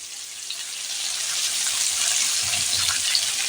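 Kohlrabi pieces frying in a pan for a Bengali ol kofi curry, giving a steady, even sizzle and crackle that grows slightly louder and continues throughout, close up with no talking.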